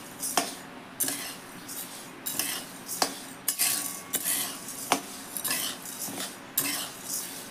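A spoon scrapes and knocks against a pan as sattu flour is stirred continuously while it roasts, giving repeated close metallic scrapes and clinks in an uneven rhythm.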